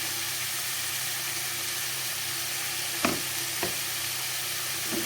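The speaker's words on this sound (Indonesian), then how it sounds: "Ini sambil diaduk-aduk aja." Kalimbung with petai and rebon shrimp stir-frying in a pan, a steady loud sizzle with a few sharp scrapes of stirring toward the end, no voices.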